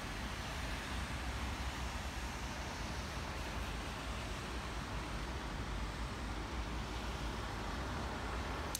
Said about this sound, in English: It's the sound of a lot of rain.